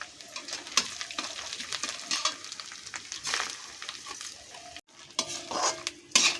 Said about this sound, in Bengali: এবার এটাকে আমাদের খুব ভালো করে ভাজতে হবে।